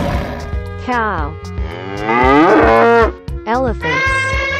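A cartoon cow lets out long, loud, drawn-out moos with rising and falling pitch, several calls in a row over a backing tone.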